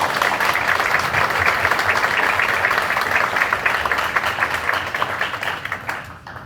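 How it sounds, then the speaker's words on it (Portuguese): Sustained applause from an audience at a Brazilian OAB lawyers' ceremony, a dense steady wash of many hands clapping for about six seconds before easing off slightly at the end. "E quero pedir uma salva de palmas pelo ato nobre que ele vem fazendo."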